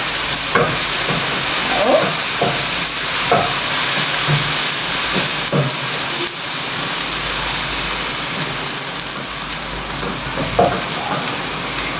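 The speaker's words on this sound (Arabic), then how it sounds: "هنقلب شويه البصل، انا مش هخليه يصفر ولا اي حاجه خالص، انا هقلبه شويه كده" Onions frying in a pan are stirred repeatedly. A steady sizzle and hiss runs throughout, broken by periodic scraping strokes, and a brief word is spoken.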